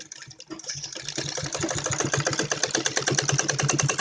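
A domestic sewing machine runs steadily, stitching net cloth for a Patiala salwar; a fast, even mechanical chatter starts after a brief pause and continues close and loud to the end.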